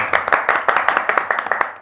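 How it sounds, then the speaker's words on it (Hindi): A small group claps at an event, giving a brief run of sharp, fairly regular hand claps that sounds close and moderately loud, with faint voices mixed underneath. "तालियां"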